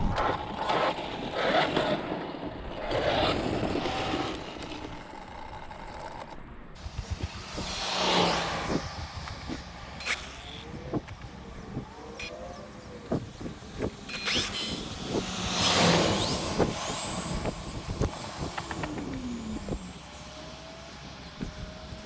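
An Arrma Limitless GT RC car speeds along a track, its electric motor whining up and down in rising surges as it passes repeatedly, with wind noise between the fast runs.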